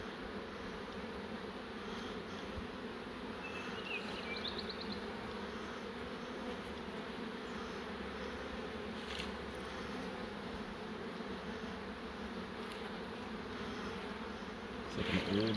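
Honey bees and drones buzzing steadily at an open hive, a dense, continuous drone of many wings close by with no break across the whole stretch.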